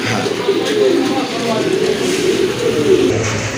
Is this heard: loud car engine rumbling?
no